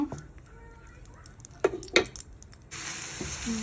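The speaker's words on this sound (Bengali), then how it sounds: "এখানে মরিচ ভেজে নিচ্ছি ভর্তার জন্য।" Chili peppers frying in a pan for a mash: quiet crackles and a few sharp pops from the hot oil, then a steady, louder hiss of sizzling takes over for the last second.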